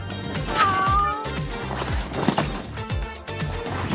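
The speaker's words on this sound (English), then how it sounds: "But this time, we're going with cats." A cat meows once, a short rising mew, over background music and soft rhythmic knocks.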